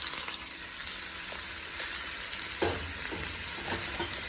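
Onions and chilies for potato taquitos sauté in a separate pan with a steady soft sizzle and hiss. A few stirring scrapes and clicks break through the sizzle near the end.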